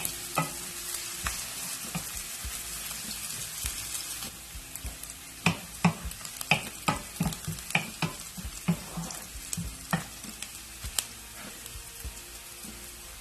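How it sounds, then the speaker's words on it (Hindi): Chopped onion sizzles steadily as it sautés in hot oil, while a spoon scrapes the pan in a series of sharp, regular stirring knocks through the frying. "अनियन डालूँगी और इसको मैं लाइट गोल्डन फ्राई करूँगी। इसको आप अच्छी तरीके से सौटे करें ऑयल के साथ।"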